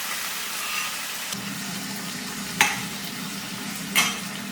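Methi leaves, chopped onion and cooked jowar sauté in a pan with a steady close sizzle, broken by two sharp clicks of a spatula against the metal.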